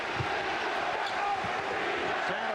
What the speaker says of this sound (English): Defense from the crowd.